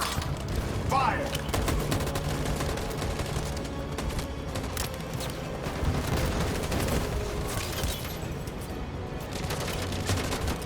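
A sustained volley of rifle fire in Detroit: Become Human, dense overlapping shots rattling continuously for several seconds at steady loudness, with voices faintly beneath.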